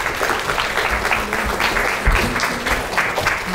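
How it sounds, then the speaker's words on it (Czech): Audience clapping to welcome two guest speakers, women from travel marketing, onto a stage at an airport event; steady, fairly loud applause from a room of people filling the whole stretch. "Poprosím potlesk."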